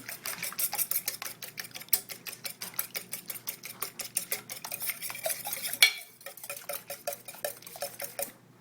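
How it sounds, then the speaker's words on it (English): Eggs whisked in a bowl for a breaded steak, a fast, steady run of close metallic clicks and scrapes that carries on for several seconds, briefly pauses, then resumes. "I'm going to whisk that to like a scrambled egg consistency."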